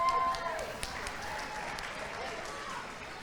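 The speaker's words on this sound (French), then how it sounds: "Applaudissons-les fort, s'il vous plaît." Applause from an audience at a high school talent show gala, a dense steady patter of clapping that fills the whole moment and holds at an even level without fading.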